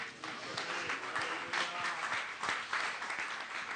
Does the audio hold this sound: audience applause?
yes